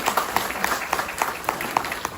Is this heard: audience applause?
yes